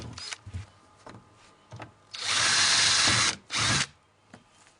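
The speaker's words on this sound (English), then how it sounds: "so we'll drill these holes, get the silicone and the nuts in place, and finish off this deck plate." A power drill boring holes through a plastic deck plate on a wheelie bin being made into a worm farm, with short bursts then two sustained loud runs of whining drilling, close by with light handling clatter between.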